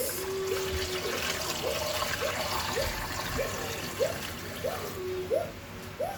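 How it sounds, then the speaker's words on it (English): Water runs and trickles into a cooking pot for boiling meat in a home kitchen, a steady pouring sound with faint gurgles, moderately quiet and without talk. "I'll put water to cook the meat."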